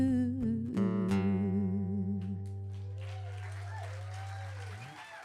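A live concert audience applauds as a held singing note and guitar chord fade out, and the clapping swells over the last few seconds, moderately distant.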